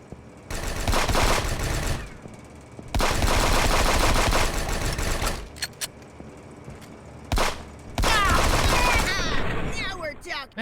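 Bursts of rapid automatic gunfire from the video game Fallout 76, loud and sustained in long volleys broken by short pauses, with a voice talking over parts of it.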